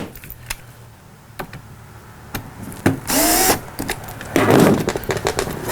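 Screws being driven back into an Atari Quantum arcade trackball assembly: sharp scattered clicks and taps, then two short bursts of a whirring power screwdriver close by, with no talk.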